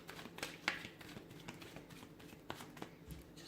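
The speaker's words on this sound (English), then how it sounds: "Let me give the cards a shuffle here." Quiet, crisp riffling of tarot cards being shuffled by hand, a run of soft papery flicks and snaps with a few sharper bursts, close up and with no talking.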